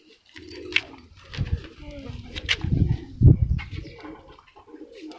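Pet pigeons cooing in a loft, several low throaty coos and rumbling bursts close by amid scattered handling noises and brief chirps.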